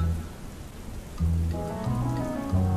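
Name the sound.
rain falling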